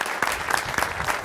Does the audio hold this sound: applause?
yes